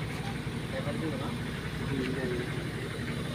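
A car engine idles with a steady low rumble, close by at night in a flooded area, while a person talks over it.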